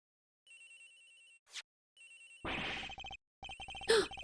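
A telephone rings in the Ace Attorney Investigations video game, with repeated electronic trilling bursts broken by brief game sound effects and a louder clattering passage, all fairly clear with no voices.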